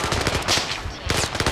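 Loud, dense automatic machine gun fire from a war video game battle, a fast unbroken rattle of shots filling the short stretch.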